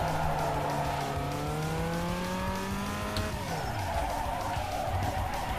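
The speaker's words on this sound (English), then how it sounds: "let's drift through here" Tires skid and squeal as a car drifts through a turn in NFS Underground 2, a loud sustained screech over engine drone with a rising pitch that sweeps down and fades after about three seconds.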